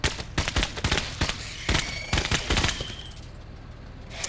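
Bursts of automatic gunfire in the turn-based tactics game MENACE as a soldier fires on aliens, loud rapid shots in quick clusters that thin out to a quieter tail.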